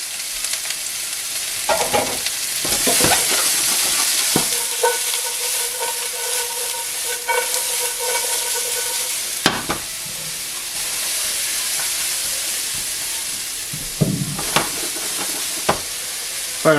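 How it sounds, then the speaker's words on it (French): Vegetables stir-frying in a hot pan for General Tao chicken, a steady bright sizzle with intermittent scraping and tossing clatters, close and loud, no voices. "Faire un peu comme un stir fry."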